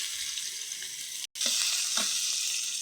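Chopped onion with whole garam masala, bay leaf, cinnamon, cardamom and black cumin sizzles and fries in hot oil in a pan, a steady close hiss with a brief cut and faint stirring clicks.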